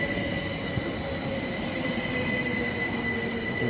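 An electric Class 377 multiple unit rolls through Swanley station on the South Eastern Main Line, a steady close rumble of wheels on rail with faint squealing tones held throughout, no voices.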